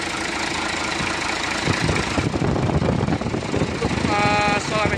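A Hino J08E diesel truck engine idles with a steady, loud, rattling rumble that continues throughout, with faint speech mixed in.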